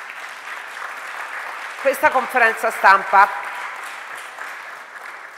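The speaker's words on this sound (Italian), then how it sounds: "un applauso a Jordi Morell" Audience applause at a press conference announcing the Premio Strega Europeo and Premio Strega Poesia finalists, a steady wash of clapping running beneath someone speaking Italian into a microphone.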